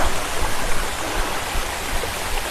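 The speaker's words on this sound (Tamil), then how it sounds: "இந்த அருவி சத்தம் தாங்க கீழே வரைக்கும் கேட்குது" A waterfall rushes on a hill above Tiruvannamalai, a dense, steady roar of falling water filling the scene close and loud, with no voices over it.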